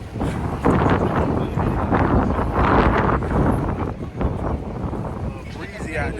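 Breezy wind on a New York City street buffets the microphone in a steady, loud rumble, with a voice talking over it throughout.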